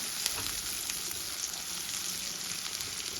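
Onion frying in a pan gives an even, close sizzle with small crackles throughout, no speech.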